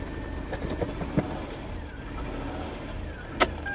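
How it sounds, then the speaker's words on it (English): A 1990s Lexus LS400 sedan, abandoned for ten years and just revived, idles at a steady low rumble with a few brief clicks and a sharper knock near the end, with no voices. "And now it's idling normally."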